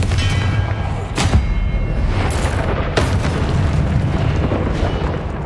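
Deep, booming blasts of the Confringo blasting spell in Hogwarts Legacy, several heavy explosive bursts a second or so apart, loud and close with rumbling tails layered over each other.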